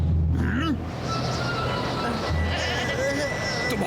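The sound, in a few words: goats bleating in a cartoon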